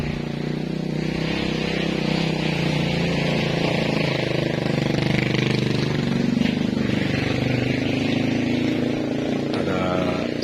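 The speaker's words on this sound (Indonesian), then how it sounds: "Ada suara motor yang sangat kasar sekali suaranya" A motorcycle engine with a very rough, harsh tone runs steadily nearby for the whole stretch. People keep talking over it.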